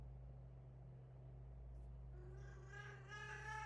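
A cat meows in a quiet room with a steady low hum, the call rising clearly near the end with several harmonic, drawn-out tones.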